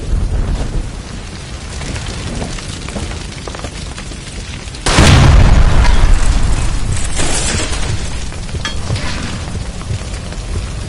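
A gas line explodes in L.A. Noire, a sudden loud blast about midway that drops into a long rumbling roar and debris clatter, following quieter ambient noise before the burst.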